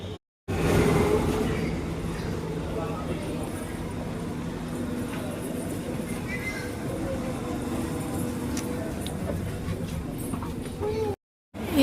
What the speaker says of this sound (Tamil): ட்ரெயின் வந்துடுச்சு.